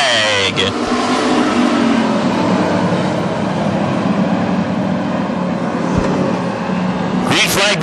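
WISSOTA street stock race cars roar back to speed on a restart at a dirt oval, a dense loud blend of engines building and passing, with an announcer talking over the noise.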